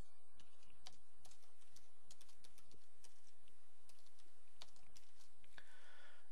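Quick bursts of typing on a computer keyboard, sharp clicking keystrokes in irregular runs with brief pauses, fairly close and quiet, no voice over them.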